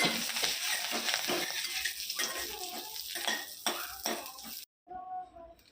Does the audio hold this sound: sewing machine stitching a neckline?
no